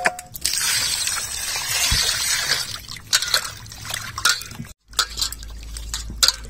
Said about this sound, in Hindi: पानी डाल करके हम बढ़िया से चोना मछली के धो लेते हैं।